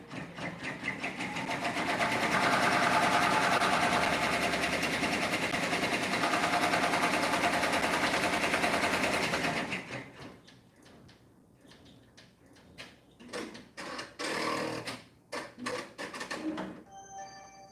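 A sewing machine runs steadily for about ten seconds as it stitches the contour of a fabric bunny toy ear for an Easter lovey comforter, then stops and gives way to quieter handling clicks and rustles.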